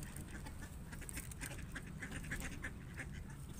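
Ducks on a lake in late autumn give faint, scattered quacks and calls over a low, steady outdoor background, fairly distant.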